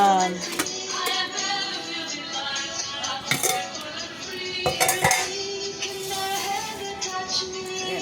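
Metal idli plates clatter and clink against a steamer pot as they are set in place, several sharp scraping knocks spread across a few seconds.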